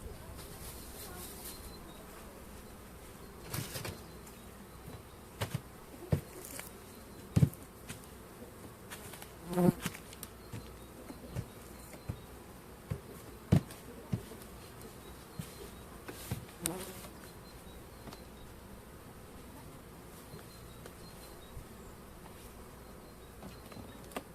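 Honeybees buzz around an open hive on a mild February day while they are fed cakes, a continuous close swarm drone broken by louder individual bees passing near and occasional handling clicks.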